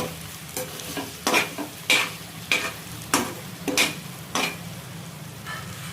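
Okra tossed and scraped with a spoon in a pan for a tomato curry, with about eight separate sharp strokes spaced roughly half a second to a second apart over a low, steady cooking hiss.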